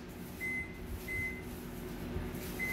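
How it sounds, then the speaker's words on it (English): Microwave oven running while warming a hot dog bun, a steady low hum with fan noise, a faint high tone recurring three times in the background, no speech. "I go to the microwave"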